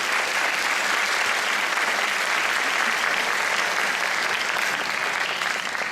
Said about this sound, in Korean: 그때 박수 한번